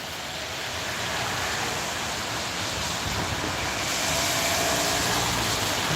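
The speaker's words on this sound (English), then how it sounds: "it's really raining now" Heavy rain falling in a steady, dense broadband wash, close and loud throughout, with no voices.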